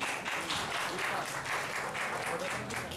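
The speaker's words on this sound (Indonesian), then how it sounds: "Tepuk tangan dulu dong buat Mbak Dian." Audience at an Indonesian art and literature discussion claps steadily for a few seconds, a dense, even wash of applause from a roomful of people.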